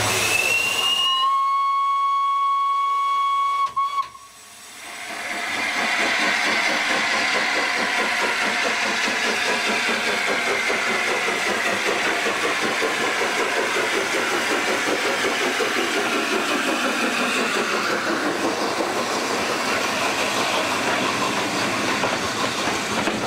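Steam locomotive 60163 Tornado departs with a passenger train. A sharp steam whistle comes first, then a steady roar of exhaust beats and rolling wheels that holds loud for about twenty seconds.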